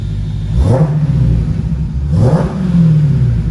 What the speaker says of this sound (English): let's hop out with the car running and have a listen